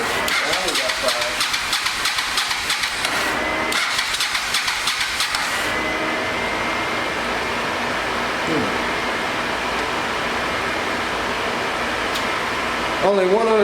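A 1986 Honda VT500 Shadow motorcycle engine runs loud and close in a steady, rough mechanical drone with some uneven sputter early on, continuing throughout.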